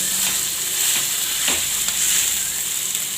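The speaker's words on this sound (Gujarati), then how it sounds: "હવે આપણે આ માવો નાખી દેવું બટેટાનો અને સરસથી એને ધીમા ગેસે આપણે શેકવાનું છે" Mashed potato roasting on a low flame for potato halwa, a continuous close sizzle and hiss with faint scraping of stirring.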